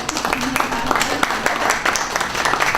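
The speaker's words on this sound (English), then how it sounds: "Y'all give yourselves a round of applause." An audience at a Diversity & Inclusion Week presentation applauds: dense, steady clapping from many hands fills the room, with voices murmuring and calling out underneath.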